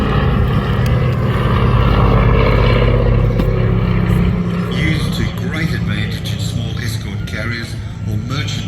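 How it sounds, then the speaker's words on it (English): Propeller aircraft flying in tight formation at an air display at the Midlands Air Festival, a loud continuous engine drone with shifting tones as they pass, heard under a commentator's voice over the public address. "you can see the aircraft bobbling around in their own particular airspace, but working really hard to keep that formation as tight as possible."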